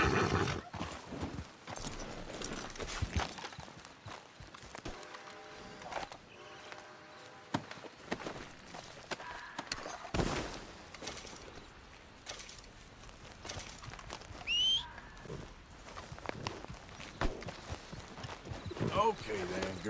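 A horse ridden in Red Dead Redemption 2, hooves clopping and a whinny amid game ambience, with snorts and scattered louder thumps, moderately near and fairly faint.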